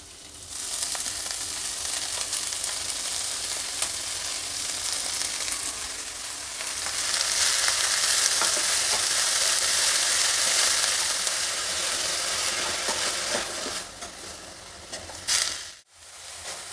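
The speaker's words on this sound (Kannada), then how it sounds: "ಈಗ ಸಣ್ಣದಾಗಿ ಹಚ್ಚಿಟ್ಕೊಂಡಿರೋ ಹರಿವೆ ಸೊಪ್ಪನ್ನ ಇದರಲ್ಲಿ ಸೇರಿಸೋಣ" Chopped amaranth leaves hit an onion and cumin tempering, bursting into a loud, dense sizzle that swells midway, with stirring scrapes and a brief dip near the end, no talking.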